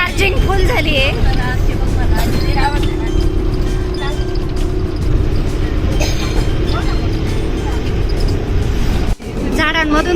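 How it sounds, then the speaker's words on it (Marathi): A car drives along a tree-lined road in the morning, its steady road and engine rumble loud and continuous from inside the cabin, with people chatting over it and a brief dip near the end. "झाडांमधून गाडी चालली असं वाटतंय ना"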